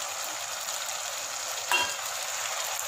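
Vegetable soup stirred in a pot, a steady sizzling, bubbling hiss with one brief scraping stir in the middle, close and fairly quiet.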